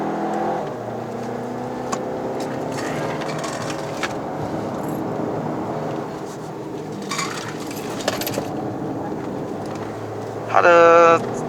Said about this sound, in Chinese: 当我松开油门再踩回那刹那哦，你有发现到那个 turbo 有一点 lag 哦